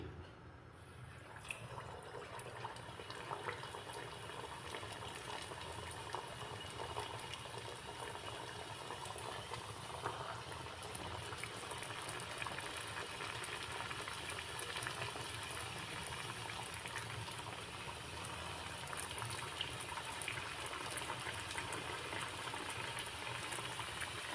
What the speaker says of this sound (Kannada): ಈಗ ಎಣ್ಣೆ ಸಹ ಬಿಸಿಯಾಗಿದೆ ಒಂದೊಂದನ್ನೇ ಹಾಕ್ತೇನೆ ಈಗ ಫ್ರೈ ಮಾಡುವ ಒಂದೊಂದನ್ನೇ